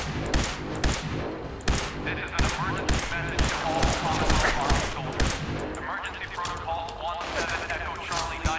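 Dense bursts of rapid automatic gunfire and single shots crackle nonstop in a Fallout 4 Far Harbor firefight, loud and continuous, with a voice talking over the shooting.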